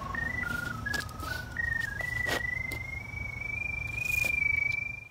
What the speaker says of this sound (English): he can then track the camera head using a locator, which scans for a radio signal coming from the scope